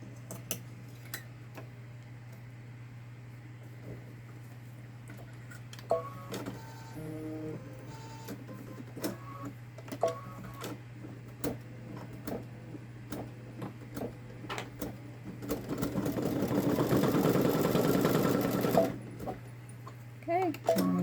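A Baby Lock Solaris Vision embroidery machine stitches the black thread outline of a garden gnome design, with a steady motor hum and fast rhythmic ticking that swells into a louder whir near the end, while someone talks over it.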